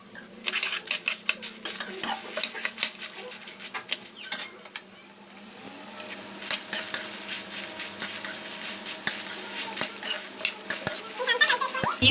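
Dry urad dal, fenugreek seeds and peppercorns being stirred and roasted in a pan on low heat, a steady scraping rattle of spoon against metal with clinking hits throughout, close and fairly loud, no talk.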